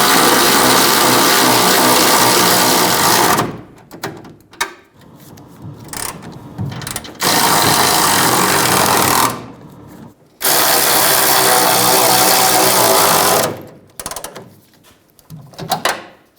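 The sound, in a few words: ratchet tightening bracket bolts on Toyota Tacoma rear bumper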